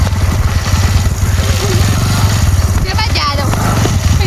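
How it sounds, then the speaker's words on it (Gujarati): A motorcycle engine runs steadily in first gear at low throttle during a beginner riding lesson, with a close, even putter throughout and a person talking over it. "પહેલા ગેરમાં બાઇક ચલાવે છે"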